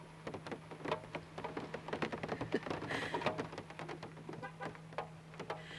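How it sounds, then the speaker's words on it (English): Rain falls outside a parked van, heard from inside as soft, irregular pattering and ticking on the roof, faint and close, over a low steady hum. "hearing the rain outside."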